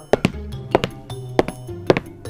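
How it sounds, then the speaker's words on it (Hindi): Quick footsteps as a sound effect: heavy, close thuds land in rapid pairs, four pairs in about two seconds, with brief quiet gaps between them. "तभी तेज कदम की आवाज सुनाई दी"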